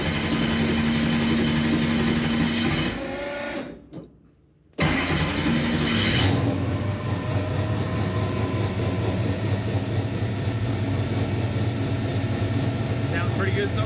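Methanol-fueled engine with Holley EFI running cold and warming up: a loud, steady low rumble that drops out briefly near four seconds, then returns and settles into a continuous close idle.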